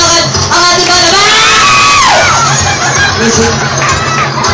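A lively crowd at a magic show cheers, whoops and shouts for an egg-tray balancer, loud close hubbub with a rising whistle-like whoop midway, excited voices mixed throughout.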